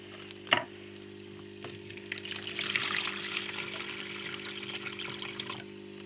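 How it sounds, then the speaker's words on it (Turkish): Water is poured out of a small container holding an albino pleco, a soft trickling and splashing stream that starts after a sharp knock and continues moderately near, with faint background hum and no talk. "Ya suyunu dökeceğim arkadaşlar."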